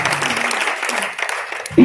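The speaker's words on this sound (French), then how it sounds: "quand on peut acclamer très fort le Seigneur" A church congregation applauding and cheering for the Lord, dense steady clapping with crowd voices throughout, ending in a louder swell.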